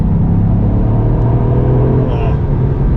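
A Toyota GR Yaris engine pulls hard under acceleration, giving a loud, close, continuous low rumble and growl that holds steady throughout.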